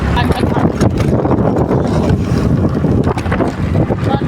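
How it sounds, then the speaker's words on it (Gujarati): Gusty wind buffets the microphone with low, rumbling bursts while a person talks over it. "અત્યારે પવન આવતો હોય તો રસ્તામાં એને ઇગ્નોર કરજો"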